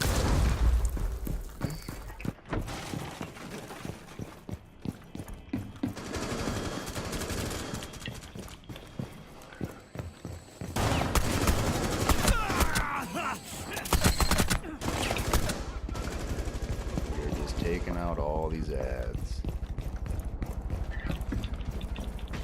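Rapid gunfire and bursts of shots from the video game Rainbow Six Siege, dense and loud throughout, with game effects layered underneath.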